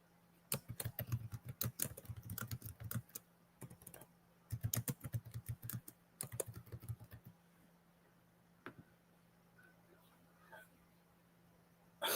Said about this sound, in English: I'm typing it up for y'all.